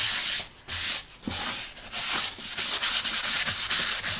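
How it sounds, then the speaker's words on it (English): Steady, rhythmic rasping of sandpaper rubbed back and forth across a surface, close up, with brief pauses between strokes. "always be aware of the direction of your grain and sand with the grain"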